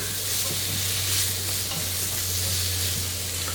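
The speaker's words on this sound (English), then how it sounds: "when you're frying the pork chops, they do splatter a little bit" Pork chops sizzle and fry in a hot pan with a steady, dense crackle and a constant hiss close by. Now and then a faint splatter pops, and no one is talking.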